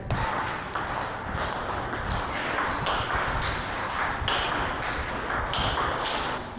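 Table tennis ball struck repeatedly against a paddle with Tenergy 05 Hard rubber, a steady rally of sharp pings and taps over a dense, noisy background.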